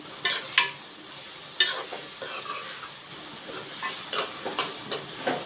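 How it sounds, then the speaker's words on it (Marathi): Onion frying in hot oil with cumin, sizzling steadily while a spoon stirs it in the pan with repeated scraping strokes, close and moderately loud, no talking. "आता आपण कांदा चांगला भाजून घेऊया"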